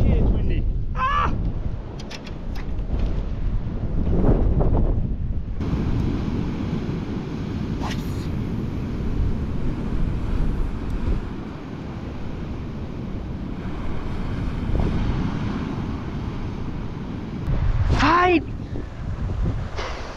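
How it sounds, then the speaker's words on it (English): Strong wind buffets the microphone in gusty, rumbling bursts throughout at an outdoor campfire cooking site, with occasional brief shouts or calls breaking through. "it's windy"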